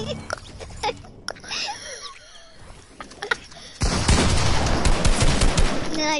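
Shotgun fire in a video game: several sharp, separate bangs come first, then a dense, loud burst of blasts and noise takes over the second half.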